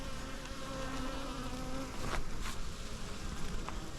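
Package honey bees buzz steadily around an open hive, a dense continuous drone close by with a few louder passes of individual bees.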